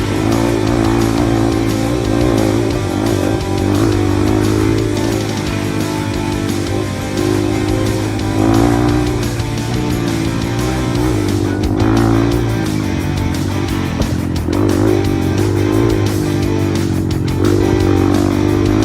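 Trail motorcycle engine on a night ride on an Aceh trail, droning loud and continuous close by with rising revs and throttle surges throughout.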